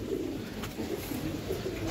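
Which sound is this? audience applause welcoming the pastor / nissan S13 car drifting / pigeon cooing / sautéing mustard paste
pigeon cooing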